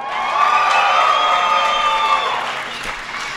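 A crowd at an MLG X Games esports semifinal between OpTic Gaming and Evil Geniuses fills the venue with sustained cheering and applause, a dense, loud wash of voices and clapping that fades slightly toward the end.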